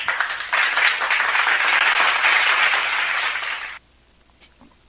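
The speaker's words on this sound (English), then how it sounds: "Let's give Engineer Verona a big warm of applause." Audience applause at an opening ceremony for an expo, steady and full for about three and a half seconds before cutting off abruptly into near silence with a faint trailing sound.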